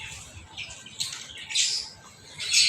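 Household birds kept in a yard, including chickens, parrots and pigeons, give a few faint, scattered squawks and chirps over soft background noise, with no speech.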